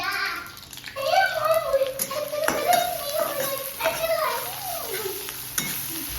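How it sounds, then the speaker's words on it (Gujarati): Onions sizzling in hot oil with cumin, chilies and asafoetida in a home kitchen, a steady frying hiss with stirring scrapes throughout, while voices talk faintly in the background. "તો હવે ડુંગળી ફ્રાય થવા દઈશું."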